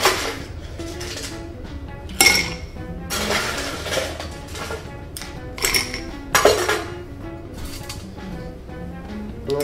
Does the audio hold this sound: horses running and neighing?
no